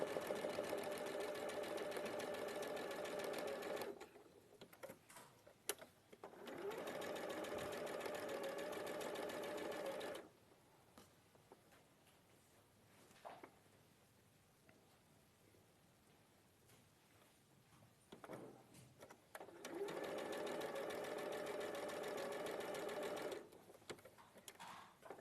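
A sewing machine chain-pieces 2.5-inch fabric squares in quick stitching runs, with pauses between bursts where the room goes quiet and faint handling sounds can be heard.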